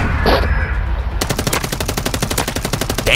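After a quieter opening, enemy automatic fire opens up in a shooter game, a steady fast stream of close, loud rounds that carries on to the end.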